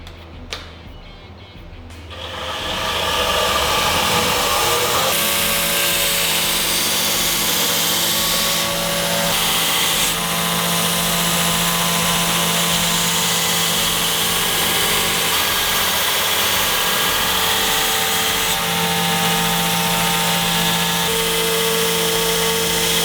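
A cleaver blade is ground on a grinder. After a brief quiet start, the motor spins up into a loud, continuous whine and hiss that holds steady for about twenty seconds, with slight shifts in pitch as the steel is worked.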